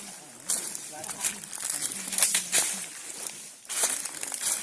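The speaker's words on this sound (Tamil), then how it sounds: "நாம் நடக்கிற சத்தத்தை தவிர வேற ஒரு சத்தமும் இங்கே கிடையாது." Footsteps on a forest trek, a series of crunching, crinkling steps through leaf litter and undergrowth, close and fairly loud with an irregular walking rhythm.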